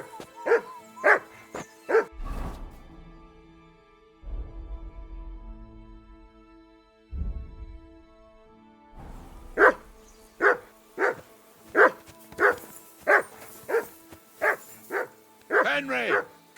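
A dog barks repeatedly in the video game Kingdom Come: Deliverance 2: a few sharp barks at first, then a long, steady run of loud, evenly spaced barks after a quieter stretch with low thuds.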